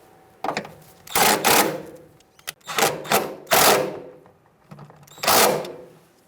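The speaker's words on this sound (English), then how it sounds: "now I'm going to tighten up my bolts for my brackets with a 10mm socket." A ratchet with a 10mm socket tightens brake bracket bolts on a 2000-2007 Ford Taurus during a rear brake hose job, producing loud, close bursts of rapid clicking in several strokes with short pauses between them.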